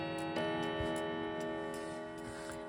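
A five gong clock ticking steadily in a quiet room, soft regular ticks heard close over a faint lingering tonal hum, with no talking.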